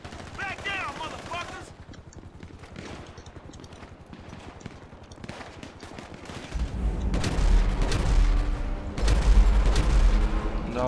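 Gunfire in the video game GTA V: rapid bursts of shots crackle through, growing louder and denser toward the end, with someone talking over parts of it.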